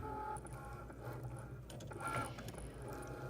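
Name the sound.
Cricut machine running after pressing Start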